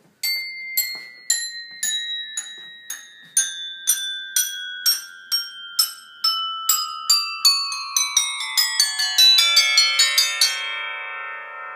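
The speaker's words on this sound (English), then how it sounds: "He's got them set up like a xylophone or like a tree bell." A new German-made tuned percussion instrument laid out like a xylophone or tree bell, struck note by note in a descending run of bright ringing bell tones that quicken into a dense shimmering cascade at the end.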